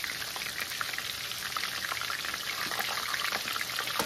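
Battered chicken pieces frying in oil in a pan for sweet and sour chicken, a dense, steady crackling sizzle that stays loud and close throughout with no voices.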